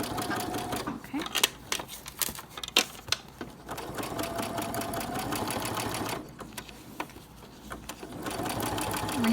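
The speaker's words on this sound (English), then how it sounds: "When you get to the end where you first started sewing, you're going to back stitch again." A sewing machine stitches a fabric bone-shaped dog treat bag, its needle whirring in a close continuous rattle that speeds and slows with brief pauses, under occasional speech.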